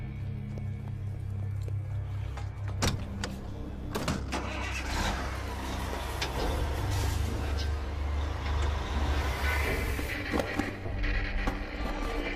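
A diesel truck running on cooking oil, its engine idling and rumbling low and steady with occasional clanks and hisses, moderately loud and nearby.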